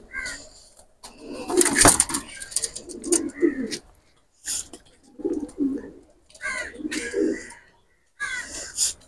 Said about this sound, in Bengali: দুইটা কবুতর ছেড়ে দেখাচ্ছি আমি